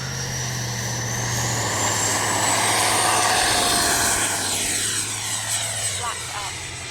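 An RC FlyFans MiG-25 model jet taking off from a runway in a crosswind, a loud rising turbine whine that builds and holds, then sweeps in pitch as it passes and climbs away; someone talks over it.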